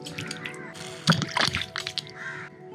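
Water surges and splashes through a reversed 1-inch check valve on a homemade ram pump, a sloshing rush with sharp splatters near the middle, then a softer flow, and no voices.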